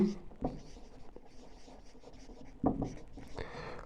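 Scratchy, rubbing strokes of notes being written during a biology lesson, in short irregular bursts with small pauses, close and moderately quiet.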